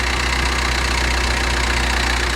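A turbocharged car engine idles at an auction yard, a loud, steady, continuous rumble up close with no voices.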